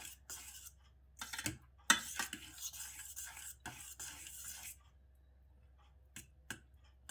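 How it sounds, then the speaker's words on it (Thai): A spoon stirring palm-sugar black bean sago in a pot over low heat, giving scattered scraping and clinking strokes with short bursts and quiet pauses between them. "คนคนไปเรื่อยๆนะคะ มันจะได้ไม่ติดหม้อ"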